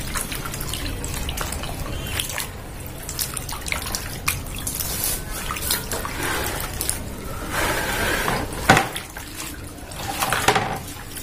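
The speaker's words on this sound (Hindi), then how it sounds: "पहले हमको साफ पानी में धोना है मैं अच्छे से क्लीन कर लूंगी" Vegetables are washed by hand in clean water in a tub, with continuous splashing, sloshing and dripping up close and no talking.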